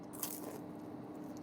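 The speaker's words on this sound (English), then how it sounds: "I'm going to eat my chicken egg roll, which I love." Someone bites into a Panda Express chicken egg roll, giving a single soft crunch near the start, followed by quiet squishy chewing up close.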